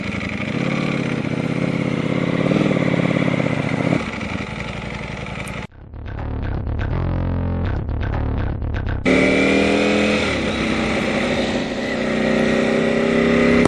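A crashed 2018 Ducati Panigale V4 Speciale engine runs loud and close with a steady droning roar. It drops out abruptly for a few seconds with a stuttering rattle, then returns at full strength, and no one speaks.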